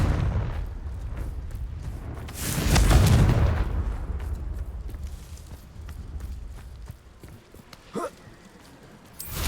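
A Confringo fire spell blast from Hogwarts Legacy: one heavy booming burst rises and rolls off in the middle, set against low, rumbling game ambience.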